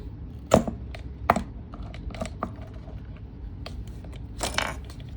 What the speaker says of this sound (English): So just want to align it right with the fold in the center and then punch.